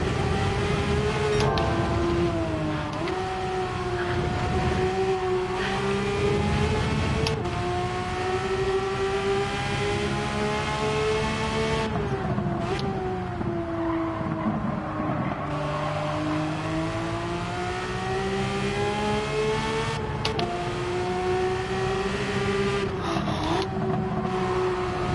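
A race car engine in Gran Turismo 7 drones continuously and loudly, pitch rising through the gears and dipping on shifts and braking, steady throughout with no pauses.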